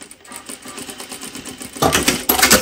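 A sewing machine finishes off a seam on a pair of trousers with a fast, even mechanical stitching chatter, close by, rising louder in short bursts toward the end.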